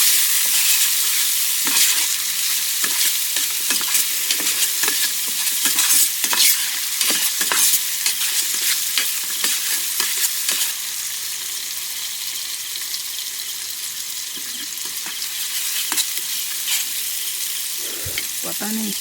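Ground coriander and cumin sizzle in a hot pan at a night forest campsite, stirred steadily with scraping strokes over a continuous close frying hiss, with no talking.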